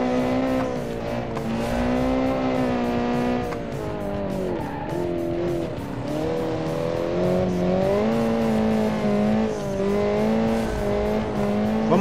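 A 1.6-litre engine in a popular car in the racing game Automation revs hard, its steady tone rising and falling between gears and holding high revs throughout.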